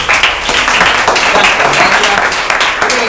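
Applause from an audience welcoming Nahuel, vocalist of J.B. Worship, at a worship training gathering; dense, steady clapping fills the whole stretch, with a voice faintly mixed in.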